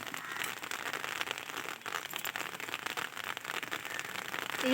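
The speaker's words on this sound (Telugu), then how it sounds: "వాన వచ్చేస్తుంది" Rain starts falling in a village, a soft, dense patter with faint crackling that holds steady throughout and swells slightly at the end, with no talk.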